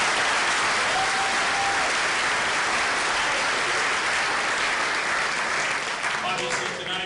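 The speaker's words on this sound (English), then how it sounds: "I just want to give him a round of applause for a great first year." An audience in a room at Wareham High School's sports awards night claps steadily in sustained applause, loud and dense throughout and tapering slightly at the end.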